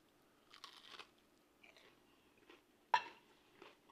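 Crispy low carb air fryer snacks are bitten and chewed close up, a few quiet crunches followed by one sharp, louder bite, with near silence between.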